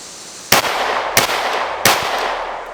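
Three sharp gunshots from a small compensated concealed-carry handgun, evenly spaced about two-thirds of a second apart, loud and close with short echoing tails, and no talking.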